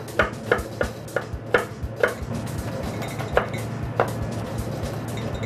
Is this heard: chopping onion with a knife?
yes